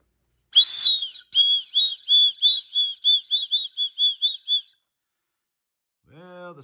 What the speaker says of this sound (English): It's got a little survivor whistle, I guess it is.